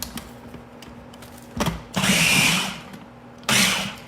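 A machine gives salsa a quick stir with the lid on, a short whirring pulse followed by two louder bursts of motor buzz, close and alone.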